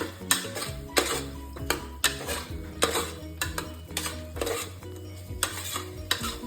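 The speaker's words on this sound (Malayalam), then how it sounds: "കുറച്ച് നാരങ്ങനീര് പിഴിഞ്ഞു കൊടുക്കാം. ഇളക്കി കൊടുക്കാം." Spoon stirring and clattering against a metal pan of South Indian tomato rice with lemon juice squeezed in, a steady series of close scraping clinks and knocks over a faint sizzle.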